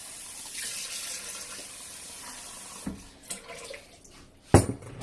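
Hot water runs from a kitchen tap with a steady hiss for a few seconds, then stops, followed by a few clinks and a sharp knock of dishes or utensils.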